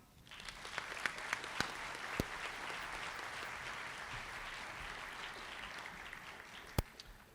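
A convocation audience at Salem State welcomes a trustee with steady, evenly sustained applause, many hands clapping at a distance for several seconds, with a few sharper claps standing out near the end.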